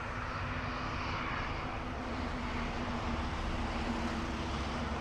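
Airplane at Dublin Airport, a steady broad engine roar held at a distance, fairly quiet and unbroken throughout.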